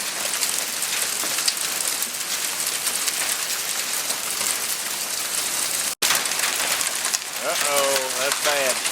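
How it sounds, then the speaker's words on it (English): Hail pelting down hard in a steady, dense hiss and patter outdoors near parked cars, continuous through the whole stretch, with a voice speaking briefly near the end. "Well, we had the excitement of the hailstorm."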